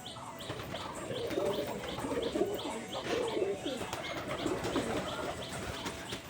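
Domestic pigeons in a backyard loft coo softly and repeatedly at close range, with bursts of wing flapping and a few chirps scattered through the steady cooing.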